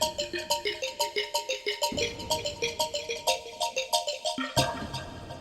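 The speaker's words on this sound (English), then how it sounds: "by adding the effects that give it some high end, some reverb and some chorus" Synth patch from a percussion sample library, dressed in magical delay, reverb and chorus, plays a bright repeating arpeggiated pattern of plucky notes with echoing tails, loud and alone.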